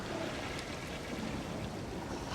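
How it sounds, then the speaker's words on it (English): Toilets flushing inside a restroom in the SimAirport management game, heard as a steady, continuous rush of water that stays at an even level for the whole stretch with no pauses. "I'm hearing the toilets flush."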